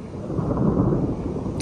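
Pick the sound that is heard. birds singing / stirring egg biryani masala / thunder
thunder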